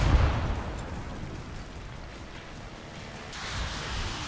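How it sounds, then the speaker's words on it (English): Bomb blasts in the tank combat game War Thunder, a broad booming rumble opening loudly, then sustained roaring noise that swells again near the end, with no talking. "I was dispatched from my location by some bombs."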